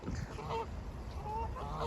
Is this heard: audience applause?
no